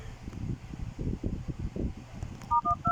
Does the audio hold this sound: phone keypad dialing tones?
yes